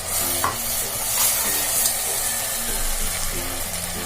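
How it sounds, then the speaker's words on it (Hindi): Tomato puree gravy with salt and garam masala frying in oil as it is stirred steadily, a continuous close sizzle with a low background hum and occasional scraping of the spoon. "सारी चीजों को हमें अच्छी तरह से भून लेना है जब तक कि हमारे प्योरी से ऑयल ऊपर आना स्टार्ट ना हो जाए।"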